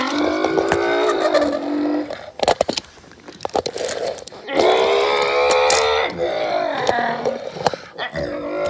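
NASCAR race cars starting a race at Sonoma Raceway, their loud engines roaring and shifting in surges with brief gaps, mixed with excited commentary.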